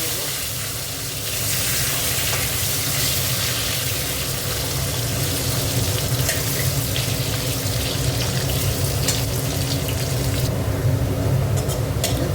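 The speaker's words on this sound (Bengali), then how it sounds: "এবার আলুগুলো একটু ভেজে নেব।" Potatoes frying in a pan of oil, giving a steady, loud sizzle with a broad crackling hiss that carries on continuously throughout, without any talk.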